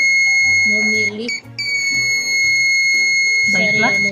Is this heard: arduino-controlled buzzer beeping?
yes